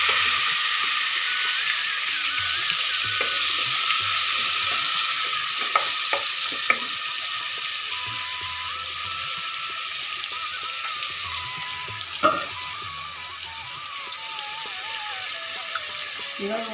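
Onion paste sizzling and frying in a pan for chicken badshahi, a continuous hissing crackle with occasional stirring scrapes and clinks, while a voice speaks quietly underneath.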